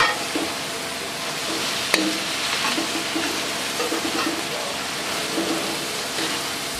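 A steady, loud sizzle of eggs and onions frying in a pan, with occasional stirring scrapes and a single sharp clink, no voices.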